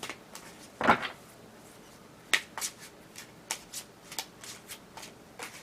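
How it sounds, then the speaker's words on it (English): A deck of tarot cards being shuffled during a reading, a series of soft riffling snaps and flutters, close and fairly quiet, with no talking. "now it seems like I need to shuffle a lot all of a sudden"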